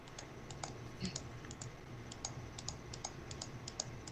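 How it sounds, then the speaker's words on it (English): A computer mouse clicks rapidly in quick, uneven bursts, close and fairly faint, over a low room hum. "I'm just rapid clicking my mouse"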